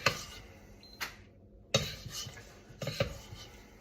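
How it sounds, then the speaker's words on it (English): Metal spoon scraping and tapping against a pan while spreading chocolate peppermint slice mixture, a few distinct clinks and scrapes separated by brief quiet pauses, close and fairly soft. "Spread it out evenly with a spoon."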